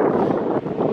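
A short burst of cold wind buffets the microphone at Maokong Gondola's Taipei Zoo Station, Taiwan, a low rumbling gust with a brief dip in the middle.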